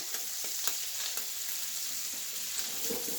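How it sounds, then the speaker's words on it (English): Butter melts and sizzles in a pan while a coated whisk stirs it, a steady soft crackling hiss with faint scraping strokes, close and quiet. "At this point, we're going to add the other tablespoon of butter in there."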